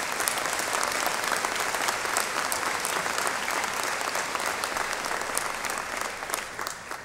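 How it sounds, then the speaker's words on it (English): Dense, sustained applause from a commencement ceremony audience, a steady wash of many hands clapping at even loudness throughout, fading slightly at the end. "Please join me in offering them a round of applause"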